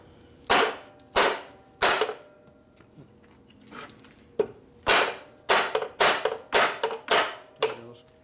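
A hammer repeatedly strikes to split apart the cases of a 1976 Harley-Davidson XLCH Sportster engine, loud sharp metallic blows in an uneven rhythm, about a dozen hits with short pauses between groups.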